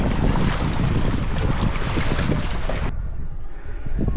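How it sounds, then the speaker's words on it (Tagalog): Strong wind blowing over open water near a boat, a loud continuous rush with microphone buffeting that stays steady throughout, its upper hiss dropping away in the last stretch. "Hindi kaya yung hangin, masyadong malakas."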